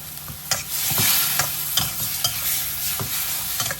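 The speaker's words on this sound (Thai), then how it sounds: "ผัดผสมคลุกเคล้าให้เข้ากันนะฮะ" Chicken giblets stir-fried in a pan with sugar, seasoning, fish sauce, light soy sauce and oyster sauce, a steady close sizzle broken by repeated scraping strokes of a spatula against the pan, with no talking.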